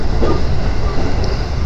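A rapid train runs at speed over the rails through a small station, a close, continuous rumble of wheels on track with a brief higher tone near the end.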